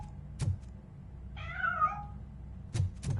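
Cat in the video game Robocop: Rogue City giving a single clear, wavering meow between a few dull knocks and thumps, fairly close, no voices.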